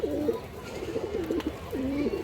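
Indian high-flyer pigeons coo nearby in a few throaty, rolling calls over low background noise.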